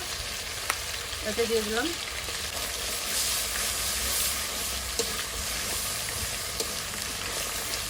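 Homemade mixed spice blend sizzling and frying in a pan for a katla fish-head murighonto, a steady close hiss with light stirring, while a voice speaks briefly near the start.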